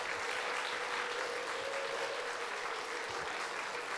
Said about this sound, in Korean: 감사의 표현으로 박수로 좀 환영해 주시기 바랍니다